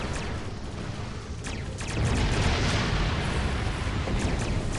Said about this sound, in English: Firing torpedo.